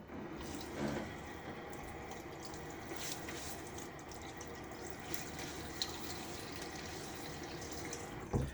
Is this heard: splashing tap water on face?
yes